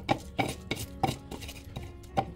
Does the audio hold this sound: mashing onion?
yes